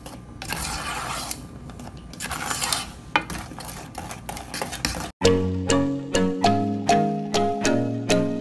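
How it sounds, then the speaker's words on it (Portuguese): A spoon scrapes and stirs a thickening brigadeiro mixture of cocoa powder in a pan over the heat, a steady rubbing scrape, followed by a run of evenly spaced clinks and taps against the pot. "Vocês vão mexer, ó, até desgrudar do fundo da panela"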